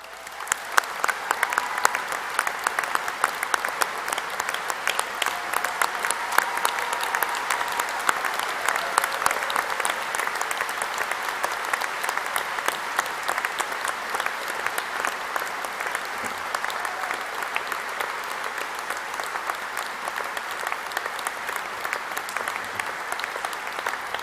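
Graduates and guests applauding at a university graduation ceremony, a sustained, even roar of many hands clapping in a large hall that continues without pause.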